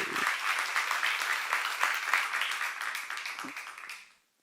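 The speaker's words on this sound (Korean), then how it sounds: "박수 한번 하세요" A Korean church congregation claps together during a sermon, a brisk, crisp round of applause that holds steady for about four seconds, then stops abruptly into silence.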